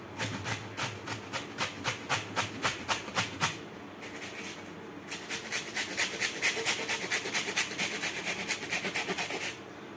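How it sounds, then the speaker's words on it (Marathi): A whole cabbage grated finely by hand for veg manchurian, giving a fast run of regular rasping strokes, loud and close, with a brief pause partway through before the steady scraping resumes. "त्यासाठी आपल्याला एक पत्तागोबी पूर्ण घिसून घ्यायचा आहे"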